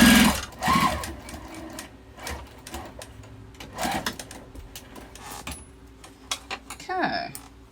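Home sewing machine stitching over old seam-ripped holes on a quilting-cotton wallet made from two fat quarters, running in short bursts with pauses, close and moderately loud, with talk in between.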